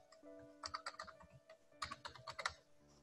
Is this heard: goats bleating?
no